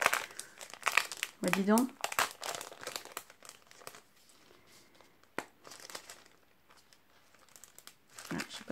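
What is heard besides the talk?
package being opened, paper crinkling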